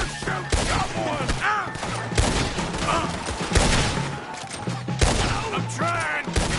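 Repeated gunshots in the Western video game Red Dead Redemption 2 during a shootout around a wagon, sharp cracks every second or so amid chaotic battle noise and voices shouting.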